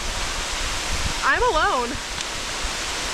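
Waterfall in Krabi, Thailand, giving a constant broad rushing roar that fills the scene close by, with a person briefly speaking over it near the middle.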